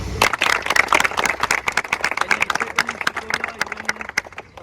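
Group of people at a practice session applauding their coach, a burst of dense, uneven clapping that thins out over a few seconds, close and lively, with a low voice briefly underneath.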